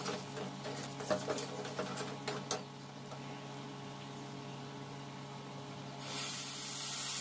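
Turmeric and chilli powder frying in hot oil make a soft, steady sizzle, with a few faint clinks near the start and the hiss growing brighter toward the end.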